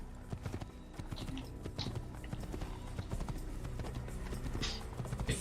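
Horse hooves clip-clopping steadily in the video game Assassin's Creed, a brisk continuous trotting rhythm close up, with a faint whinny-like sound and little else over it.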